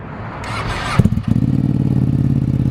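A Ducati Panigale V2 motorcycle engine fires up and settles into a loud, close, rapidly pulsing idle and rev, a throaty rhythmic rumble filling the second half after brief background noise.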